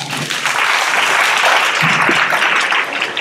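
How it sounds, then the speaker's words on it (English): Audience at a junior inter-school debating tournament claps in sustained, dense applause lasting a few seconds, loud and close, with no speech over it. "I think they deserve another round of applause."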